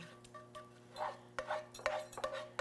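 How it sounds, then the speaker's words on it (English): A utensil stirs a zucchini and garlic mixture in a pan for a zucchini Parmesan quiche, making soft, quiet scrapes and a series of light metallic clinks that grow more frequent toward the end. "I'm gonna stir that around real good."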